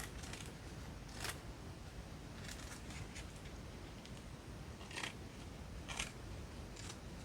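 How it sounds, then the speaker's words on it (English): Quiet, crisp snips of scissors cutting paper, a few separate cuts spread over a steady low hiss. "trim round it, but I'm going to use these scissors"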